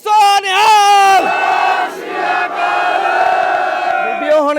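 A large crowd of Sikh villagers roars a loud, sustained jaikara response in unison, a massed chorus of shouting voices that swells and holds for several seconds after a single leading call.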